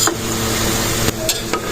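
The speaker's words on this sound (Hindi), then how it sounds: "हम फ्राई कर रहे हैं प्याज" Onions frying in a pot for crunchy fried onions for a village-style degi korma, a steady dense sizzle with a few sharp scrapes and clinks of the stirring spoon against the metal.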